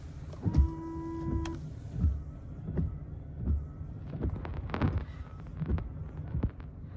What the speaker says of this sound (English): let's go ahead and try our windshield washer test